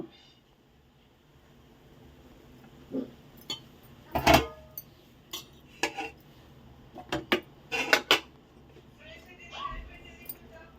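A plate is picked up amid clattering dishes and utensils, with scattered close clinks and knocks of varying loudness over a quiet background.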